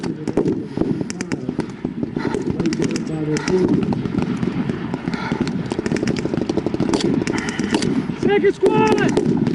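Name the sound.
blank gunfire during WW2 reenactment battle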